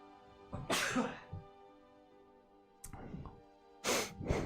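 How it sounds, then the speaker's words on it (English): A quiet room with a few breathy bursts: one building up early, then two more sharp explosive ones later, close to the listener. "Oh, God, I gotta sneeze."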